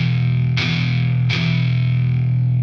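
Two palm-muted chords on a distorted electric guitar, one at a time, each a short percussive chug over a steady sustained, heavily effected guitar drone, in a metal or hard rock rhythm style.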